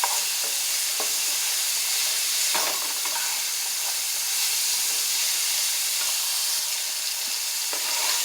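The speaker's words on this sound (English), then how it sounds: "I will saute my shrimps for a little bit after this." Shrimp sauté in sesame oil in a small pot with a loud, steady, close sizzling hiss and a few faint stirring clicks.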